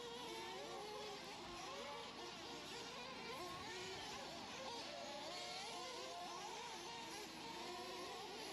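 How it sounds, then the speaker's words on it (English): Open Nitro class radio-controlled truck racing at a track, several nitro engines whining and revving continuously at mid distance, pitch rising and falling as trucks accelerate through the course with no gaps. "Open Nitro truck out on the track"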